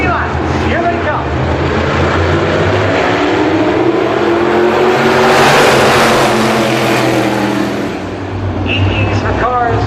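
Race cars roaring off at the start of a 30-lap Ironman main event on an oval track, loud engines building and swelling to a peak as the pack passes close, then easing, with an announcer talking over them.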